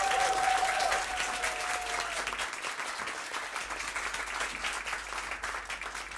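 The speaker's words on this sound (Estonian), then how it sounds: "Aplaus!" Warm applause from a concert audience greeting a singer onto the stage at a celebration for a president and his wife, sustained and even, with a brief held tone early on.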